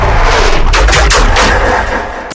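A drum fill in a track, panned by hand from right to left, bursts in as a loud, dense run of punchy hits and then eases off slightly at the end.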